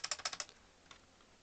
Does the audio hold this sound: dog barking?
no